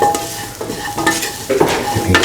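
Potato, mung bean and rice mixture being stirred in a frying pan, with repeated scraping strokes over a steady sizzle, close and fairly loud, no talking.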